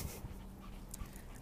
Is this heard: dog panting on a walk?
yes